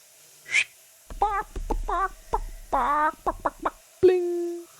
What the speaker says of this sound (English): I love the silly sounds in the game that are all mouth sounds from the developers.